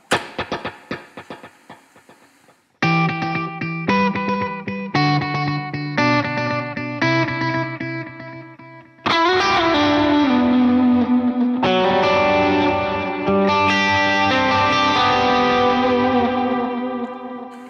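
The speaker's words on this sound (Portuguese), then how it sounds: "E eu tenho mais dois delays aqui que são meio que coringa. Um é o dual" Electric guitar run through a dual delay pedal on a pedalboard, playing loud sustained chords and notes with dense layered echoes and reverberant repeats that wash together for the whole stretch, no talking.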